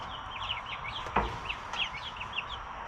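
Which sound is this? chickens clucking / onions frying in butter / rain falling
chickens clucking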